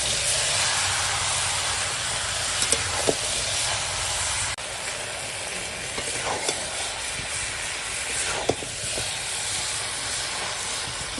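Goat meat sizzles and fries with spices in a pot over a wood fire, giving a steady, loud hiss with occasional crackles and pops throughout.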